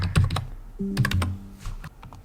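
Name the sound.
typing a password on a computer keyboard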